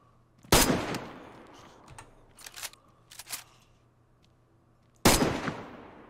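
Hip-fired gunshots in DayZ, two loud, sharp reports about four and a half seconds apart with a few lighter clicks and shuffles between them, otherwise quiet.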